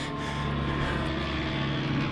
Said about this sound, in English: check out the airplane